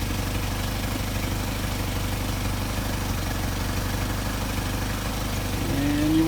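A Mercedes 190SL engine with Solex carburetors idles steadily up close, a constant low rumble with an even pulse, rising slightly in pitch right at the end.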